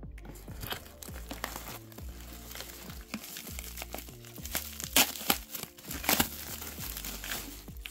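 An SVBony 60mm guide scope is unpacked from its packaging, with close, loud bursts of crinkling plastic and paper rustling at an uneven rhythm.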